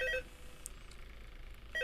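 Telephone ringing in the video game Freddbear's Family Diner: a short electronic ring burst at the start that returns at the end, with a quiet, hissy lull between.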